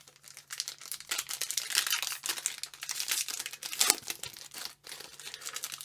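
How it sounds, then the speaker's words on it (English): Disney Lorcana booster packs from the Ursula's Return set being torn open by hand, with crinkly foil wrapper crackles and short tearing bursts in an irregular, close-up rhythm and no talking. "Very much enjoy opening these boosters"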